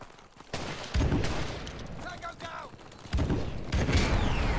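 Bursts of gunfire in Call of Duty Modern Warfare Remastered ring out in two loud clusters, with a short mechanical creak between them and a voice talking over the shooting.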